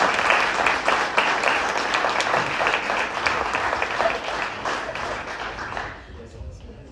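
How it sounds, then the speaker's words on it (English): An audience at a soccer banquet claps and applauds loudly and continuously for several seconds, then the applause thins out and fades near the end. "So just one last round of applause for these guys."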